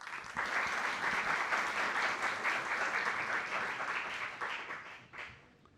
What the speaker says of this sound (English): please give a warm round of applause to welcome Mr.